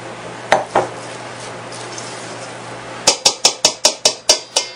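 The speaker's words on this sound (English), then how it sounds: "get my trusty spatula, and then I'm going to put the onions in our bowl" A trusty spatula knocks against a bowl as chopped garden onions for salsa go in: two separate knocks, a pause, then a quick, even run of about eight sharp taps, close by with no talking.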